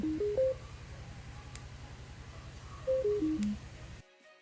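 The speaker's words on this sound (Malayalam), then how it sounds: "അപ്പോൾ സ്പീക്കർ ഓൺ ചെയ്യുമ്പോഴും ഓഫ് ചെയ്യുമ്പോഴും നമുക്കൊരു നോട്ടിഫിക്കേഷൻ പോലെ ഒരു ടൂൺ കിട്ടുന്നുണ്ട്." A Mivi Roam budget Bluetooth speaker plays its power notification tone: a short rising run of clear beeps, a pause, then a falling run of beeps, heard alone over a faint low hum.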